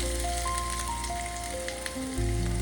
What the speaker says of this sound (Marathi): आलं लसूणची पेस्ट छान अशी मस्त तेलामध्ये आपण भाजून घेणार आहोत.